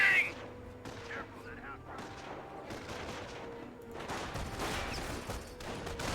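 Scattered gunfire crackles through a Company of Heroes battle between Panzer Elite and US forces, bursts of rifle and machine-gun shots sounding at moderate distance, rising into denser volleys toward the end, with a voice talking faintly over it.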